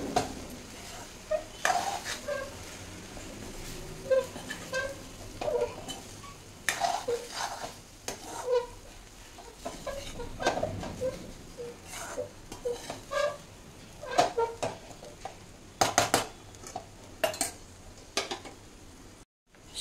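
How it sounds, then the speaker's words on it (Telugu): Vegetable rice being mixed in a pan with a spoon: irregular scraping strokes and sharp metal clinks, close and moderately loud, with soft sizzling underneath and no talking. "ఇప్పుడు మిక్స్ చేద్దాం"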